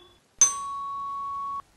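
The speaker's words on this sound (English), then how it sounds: "I will ring this bell." A single struck bell rings once, close and clear, its bright tone holding steady for over a second before cutting off, heard alone in a quiet room.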